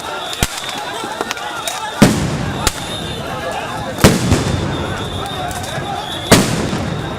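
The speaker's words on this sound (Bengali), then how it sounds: "আবারও সাউন্ড গ্রেনেড ছোড়ে পুলিশ।" Police sound grenades going off at a night street protest near Dhanmondi 32 in Dhaka, four sharp booms spread across the stretch over a dense crowd din and talking.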